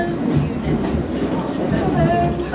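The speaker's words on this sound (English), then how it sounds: "new train today." A multiple unit train at the East Somerset Railway rumbles and rattles close by, a loud and steady mechanical roar with background voices mixed in.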